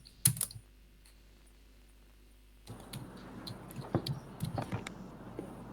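Someone types a service description on a computer keyboard: one sharp click, a short pause, then a run of quick, quiet keystrokes.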